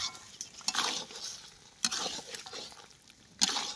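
Mutton curry with spices being stirred and fried in a pan, with scraping stir strokes at a few points over a steady sizzle, close and moderately loud, with no talking.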